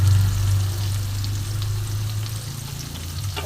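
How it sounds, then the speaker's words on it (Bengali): Steady, close sizzling of onion frying in oil in a pan for a chilli chicken dish, a dense continuous crackle with a low undertone and no talking. "এইবার দেখো এই পেঁয়াজটা আমি একটু ভালো করে ভাজবো।"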